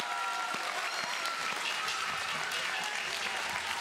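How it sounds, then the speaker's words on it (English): Wrestling match crowd at an IWC championship event roaring with sustained applause and cheering, a dense continuous wash of clapping and shouts filling the whole stretch at steady loudness. "And this crowd is ecstatic."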